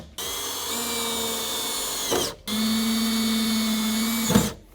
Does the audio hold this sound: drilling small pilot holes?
yes